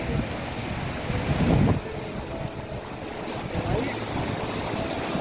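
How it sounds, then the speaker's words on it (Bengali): Fast-flowing, icy-cold river water rushes through Yumthang Valley, producing a steady, loud broadband roar with wind buffeting the microphone and a brief surge of louder turbulence near the start. "কিন্তু প্রচুর জল খরস্রোতা খরস্রোত বলতে যা বোঝায়"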